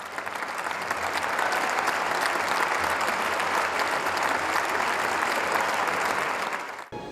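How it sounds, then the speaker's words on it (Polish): Sustained, dense applause from a large assembly greets the April 2003 European decision on Poland joining the EU, steady and loud for about seven seconds before cutting off abruptly. "To były oklaski właśnie dla Polaków."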